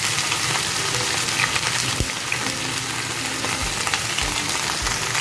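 Green chili and mustard greens fry in hot oil, a dense, loud, continuous sizzle close by with a few soft stirring knocks and no talking.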